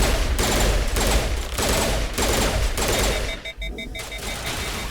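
Dense, continuous bursts of rapid gunfire in the Mass Effect video game, rattling loudly for several seconds with only a short gap, no talk over it.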